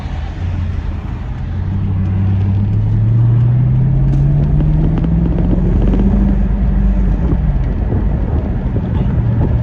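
A car with a 5-liter V8 engine drives along. A low engine drone rises and falls under steady road and wind rumble, with no talk.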